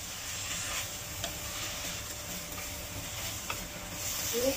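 Mushrooms stirred in a pan while cooking for risotto, a soft steady sizzle with faint scraping and clicking from the spoon, low in level and without talk.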